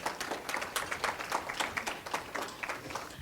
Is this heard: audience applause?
yes